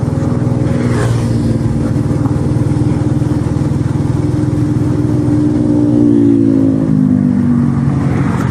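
Suzuki GSX R150 motorcycle engine running steadily close by, its drone holding a low even pitch and rising slightly near the end as revs are adjusted, with no talking.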